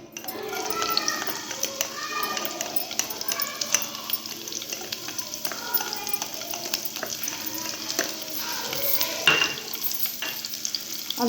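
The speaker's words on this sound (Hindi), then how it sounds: "ऑयल गर्म हो चुका, इसमें मैं सबसे पहले डालूँगी हरी मिर्च।" Green chilies frying in hot oil for crispy reesha kebabs: a steady close sizzle with crackling pops and stirring scrapes, continuing evenly without talk.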